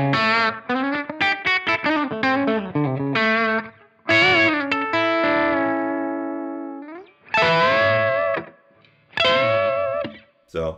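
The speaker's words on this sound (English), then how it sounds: "The next sound on here is basically it's supposed to be a slapback echo" Electric guitar run through a slapback echo on a Strymon Iridium amp-modeling pedalboard, played as quick chord stabs and sustained notes with short repeats trailing each attack, no talking.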